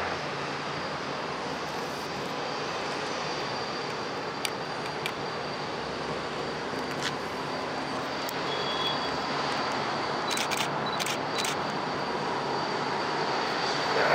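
An All Nippon Airways Boeing 787-8 airliner landing at San Jose International Airport, a steady broad engine roar that swells slightly toward the end and keeps going without a break.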